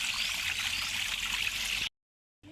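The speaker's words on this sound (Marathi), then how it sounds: "आमच्या गार्डनमधला छोटासा धबधबा" A small garden waterfall pours steadily as a broad, close rushing wash that runs unbroken, then stops abruptly and briefly resumes.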